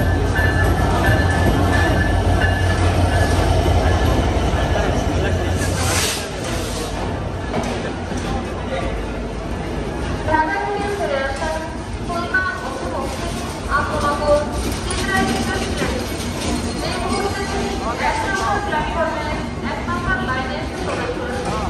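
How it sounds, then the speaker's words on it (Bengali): The Chitra Express arrives at a busy station platform, with a steady low rumble and rolling clatter of railcars; faint squeals and station noise follow, and people talk throughout. "আমাদের ট্রেন এসে পড়ছে আলটিমেটলি। এই যে হচ্ছে ট্রেন চিত্রা এক্সপ্রেস।"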